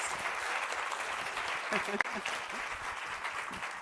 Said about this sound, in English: I think that deserves a second round of applause.